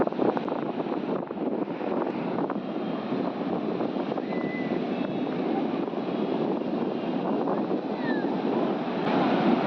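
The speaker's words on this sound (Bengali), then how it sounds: "সমুদ্রের গর্জন কিন্তু মারাত্মক।" Roaring sea surf at Puri beach on the Bay of Bengal, heard at dawn under a full-moon tide. It forms a steady, loud, broadband wash of breaking waves, mixed with wind buffeting the microphone, and no one speaks.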